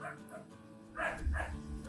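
Several dogs barking indoors at moderate distance, a couple of short bursts mid-clip over a low hum and faint clatter, with no talk.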